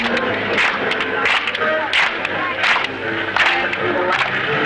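A crowd on an Australian beach in 1970 claps in a loose, steady rhythm, sharp hand strikes landing roughly every half second over a constant background murmur.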